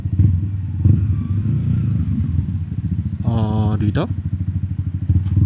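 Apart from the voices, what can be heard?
riding a motorcycle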